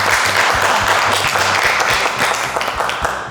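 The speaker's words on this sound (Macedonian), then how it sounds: "Аплауз, луѓе, аплауз" Studio audience applause during a Macedonian TV cooking show, dense and steady clapping filling the whole stretch at close range, with faint voices mixed in underneath.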